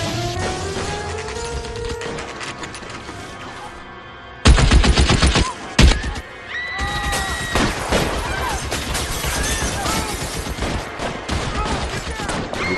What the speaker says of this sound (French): on entend des tirs